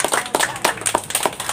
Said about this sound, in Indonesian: Kita berikan tepuk tangan kepada Mas Imawan.